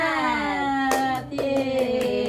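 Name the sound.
class doing the 'tepuk semangat' clapping chant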